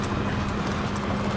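Horse hooves clip-clopping steadily in Uncharted 3 Drake's Deception, a continuous dense trot over game background noise with a voice talking.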